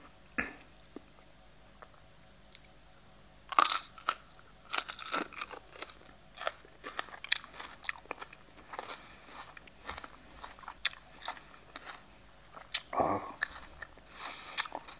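A raw red bell pepper is bitten with a sharp, close crunch, followed by moist chewing and smaller crunches, then a second crisp bite near the end, all up close with no talk.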